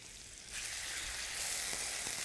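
Cajun ribeye steaks sizzle in butter in a hot pan, a steady broadband hiss that swells louder about halfway through and holds there, with no voices over it.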